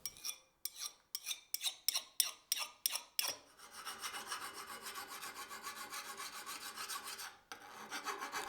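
A Japanese Rockwell file scrapes across an axe edge to test its hardness: about eight short, sharp rasping strokes in a quick rhythm, then a longer continuous grating scrape, close and clear, with no talking.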